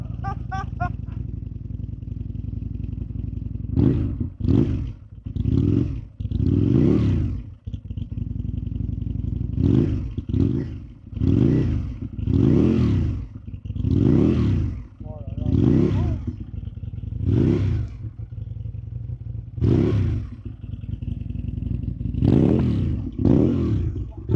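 Aprilia RSV 1000R V-twin sportbike racing on a track with chicanes, loud engine bursts rising and falling in a rapid series of revs and gear changes over a steady drone, with people talking excitedly over it.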